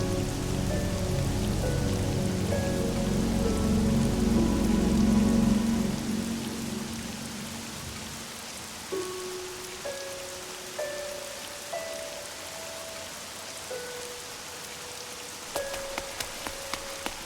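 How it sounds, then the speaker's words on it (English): A rain sound effect plays as a dense, steady patter of drops on a surface, loud at first and then thinning out while sustained tonal notes continue over it. "you're loving this rain effect"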